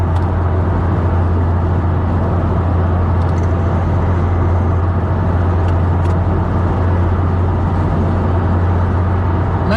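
Inside a 23-year-old Mark 1 Toyota Yaris, the engine and road noise make a loud, steady drone that holds constant throughout, with no talking.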